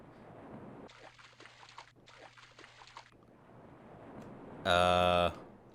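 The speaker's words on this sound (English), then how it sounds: "I just splashed around in the water." In Prince of Persia 2: The Shadow & The Flame, a character splashes around in water, producing two bursts of choppy sloshing followed by a short, loud tonal game sound.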